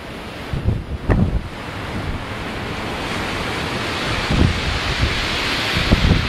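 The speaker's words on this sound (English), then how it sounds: "It's really blowing a gale here." Strong gale-force wind roars across the microphone at the western point of the Isle of Wight coast, a loud continuous rush with gusty thumps and possible surf underneath.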